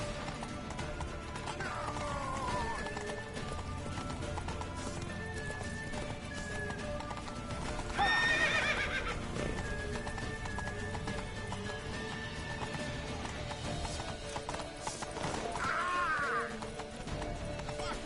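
Hooves clatter in a fast, continuous galloping rhythm over a rumbling background, with horses whinnying shrilly a couple of times mid-way.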